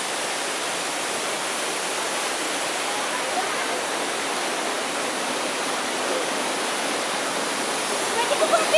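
Steady roaring rush of a waterfall and river at Estrella Falls in Narra, Palawan, a dense unbroken wash of falling water heard close and alone, with a few faint bird chirps near the end.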